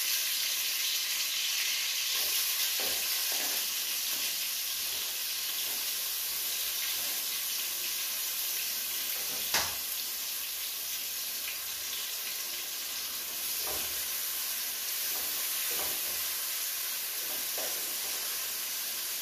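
Chopped onions fry in hot ghee for an Onam sadya dish, a steady hissing sizzle held for a long stretch with a few faint utensil taps and one brief knock.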